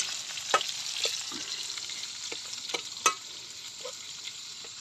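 Garlic and onion frying in a pan give a steady, close sizzle, broken by a few sharp clinks and scrapes of a utensil stirring.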